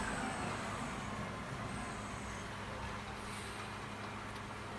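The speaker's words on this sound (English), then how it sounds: "The garbage truck is leaving." Garbage truck pulling away on a street, a low rumbling engine with broadband road noise, steady and moderately distant, with faint higher tones above the drone and no talk over it.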